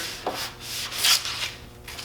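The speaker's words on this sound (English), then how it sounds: "Get you a scuff pad and just give her a good scuffing" A scuff pad rubs across a Jeep Wrangler YJ body surface before painting, giving quiet, close scratchy strokes in a few uneven passes with one louder swipe near the middle.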